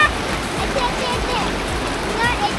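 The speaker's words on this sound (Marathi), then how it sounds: "रिव्हर क्रॉसिंग आली ही पहिली" River water rushing steadily at a river crossing on the way to Zenith Waterfall, a continuous broadband flow close by, with faint bird chirps above it.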